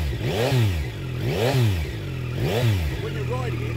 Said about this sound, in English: Let's not forget that this is a triple, and triples have got a really distinct different sound.